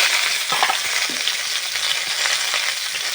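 Cut cauliflower frying in hot white oil in a pan, a steady loud sizzle with a few soft stirring clicks, no voices.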